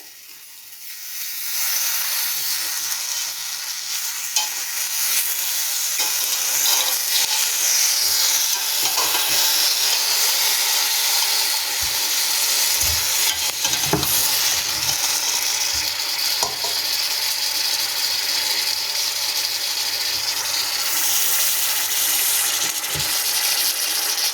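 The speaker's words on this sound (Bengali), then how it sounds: "ভালোভাবে মিক্স করে দিচ্ছি।" Mango pieces stirred with sugar in a hot pan give a steady, loud sizzle and hiss that runs throughout, with occasional soft scrapes of the spoon and no voices.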